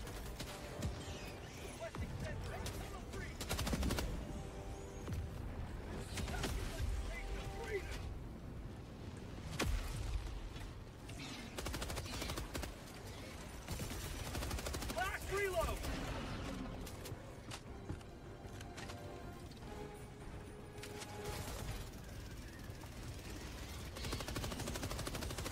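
Helldivers 2 combat: faint, distant bursts of gunfire and heavy impacts over a rumbling backdrop, recurring across the stretch with talk mixed in.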